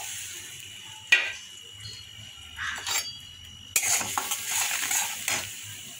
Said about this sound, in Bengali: দিয়ে একটু মশলাটা কষাবো